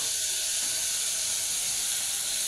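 Beans and peas sauté in a hot pan, giving a steady, close hiss with no pauses and no talk over it.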